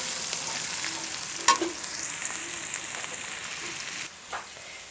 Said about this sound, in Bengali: তো এই সবগুলো এখন একসঙ্গে ভেজে নেব।